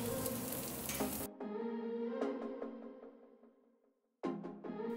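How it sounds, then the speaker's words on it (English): Corn dough sope cooking on a Mexico City street-food griddle, a soft steady sizzle with faint scraping and tapping, fading and then returning abruptly. "The corn dough is pressed, creating a thick tortilla and placed on the griddle so the bottom becomes crispy"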